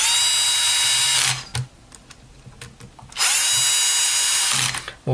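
Repaired electric drill with an external speed controller spinning up twice: a loud, steady high whine runs about a second and a half, stops, then returns for another long run, with quiet handling clicks in the gap.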